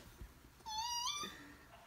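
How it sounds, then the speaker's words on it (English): A cat lets out a single drawn-out, rising-then-falling meow close by, lasting about half a second amid quiet room noise, with no talk over it. "That's a cat."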